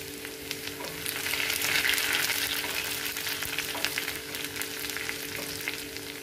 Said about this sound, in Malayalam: ഉള്ളി ഒന്ന് മൂത്ത് വരട്ടെ.